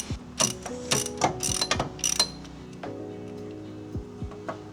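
Socket ratchet clicking rapidly in short bursts while loosening a 14 mm idler pulley bolt on a Mitsubishi Evo 9 engine during a timing belt job, close and loud with metallic ticks and brief pauses between strokes.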